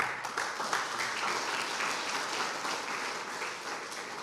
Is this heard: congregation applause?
yes